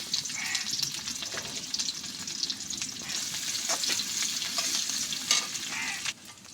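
Onions fry in hot oil with bay leaf and whole spices for a potato and egg dal. A continuous close sizzle is punctuated by scraping stirs and small spatters throughout.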